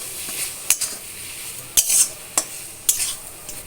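A soybean mixture with chili powder is stirred in a pan, a spoon scraping and clinking against the metal in sharp strokes over a low, soft sizzle.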